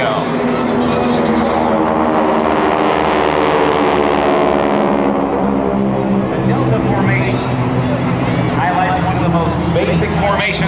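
GEICO Skytypers six-aircraft formation flying past at the 2008 Jones Beach Airshow: a loud, steady broadband propeller-engine roar that swells and fades slightly across the pass, with an announcer talking over it.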